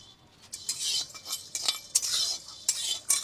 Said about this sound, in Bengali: কটা এলাচি আর কটা গোলমরিচ ভেজে নেব।